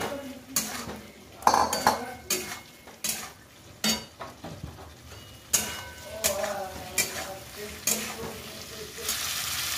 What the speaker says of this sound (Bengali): এবার আলুগুলো দেবো দিয়ে একটু কষাবো